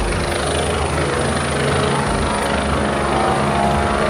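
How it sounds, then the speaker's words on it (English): A helicopter passes overhead, its steady, loud rotor and engine roar filling the air continuously at close range with no talk over it, somewhere in sunny Cancun, Mexico. "Oh my gosh, it's a helicopter!"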